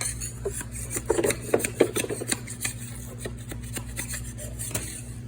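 A scraper working stuck gum and sticky residue off a store floor, giving short irregular rasping scrapes over a steady electrical hum, fairly faint and close.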